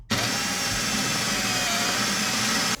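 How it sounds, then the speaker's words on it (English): A power drill with a spot weld remover bit whines steadily at high speed drilling out spot welds on a 1965 Mustang panel, loud and close, running continuously with no pauses. "We're going to take our spot welder remover tool"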